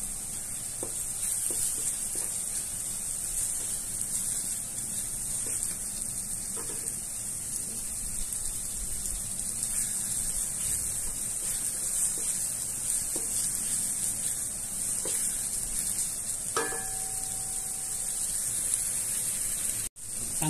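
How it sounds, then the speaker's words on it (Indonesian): Blended sambal paste fries in oil for Minang green-chili rendang, giving a steady, close hiss and crackle of sizzling that runs throughout with occasional brief knocks of utensils. "Goreng sampai dia pecah minyak ya"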